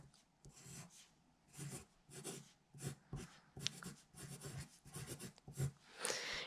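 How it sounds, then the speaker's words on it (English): A pen writes on the back of a sheet of paper. The soft, scratchy strokes come in short bursts with small pauses between them, close and quiet. "I'm going to write Portugal on the back of this."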